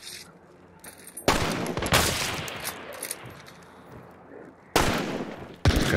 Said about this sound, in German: Rechts habe ich gerade einen Schuss gehört.